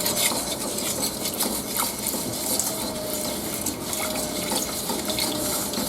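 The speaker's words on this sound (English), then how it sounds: "We're just going to keep on whisking until all the sugar and cornstarch is combined with that milk." A whisk stirs milk into sugar and cornstarch in a pot over medium-high heat, making a continuous wet swishing and light scraping with faint clinks, close and steady, with no talk.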